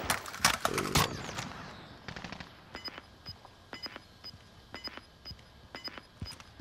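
Rapid automatic gunfire crackles in a first-person shooter game: a loud dense burst up front, then scattered single and double shots popping at a distance.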